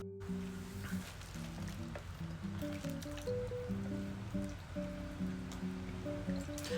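A plant's root ball lowered into water, giving wet squishing and dripping with small trickles over a quiet background, while music plays underneath.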